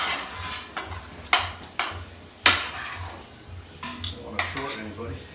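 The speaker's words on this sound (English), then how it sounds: "you keep stirring, and I'll keep pulling up the pasta" A large pot of carbonara pasta being stirred at a cooking event, with repeated metallic clanks and scrapes of utensil against pot at an uneven rhythm, close and fairly loud over a low background hum.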